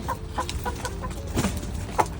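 Hens cluck steadily in a farmyard while being fed treats such as flour, a busy layered chorus of short calls over constant background noise, fairly close, with no talking.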